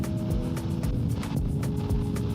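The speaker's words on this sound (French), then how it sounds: "À Bali, tu comprends vite que la voiture a pas sa place et qu'ici, tout se fait en deux roues." Scooters and motorbikes moving through Bali street traffic, a continuous engine drone with passing whooshes as bikes go by nearby.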